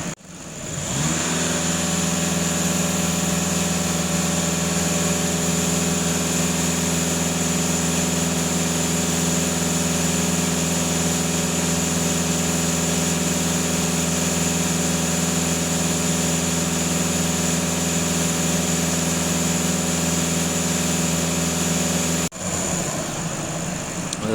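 A VW TDI diesel engine with two non-working EGR valves idles steadily up close, a constant loud hum with a fixed tone that holds for over twenty seconds before briefly changing near the end.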